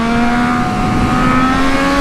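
A Triumph Street Triple 765 RS motorcycle engine revs hard and screams loudly and close, its high whine holding steady for the full two seconds with no talking.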